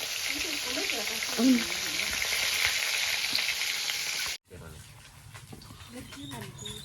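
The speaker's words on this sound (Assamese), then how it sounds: "এইফালে মাছ ভাজি আছে" Oil sizzles loudly and steadily as kamdoli fish fries, with voices talking over it; the sizzle cuts off abruptly and quieter room sounds follow.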